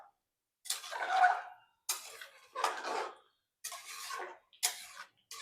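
Chicken curry is stirred in a pot after water is added, heard as a run of separate scraping, sloshing strokes, each a second or so long, with short silent gaps between them.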